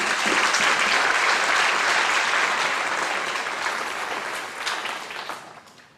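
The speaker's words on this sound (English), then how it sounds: "I'd like to give everyone a big round of applause." Sustained applause from a large crowd at a 2020 graduation ceremony, loud and steady at first, then gradually thinning and fading toward the end.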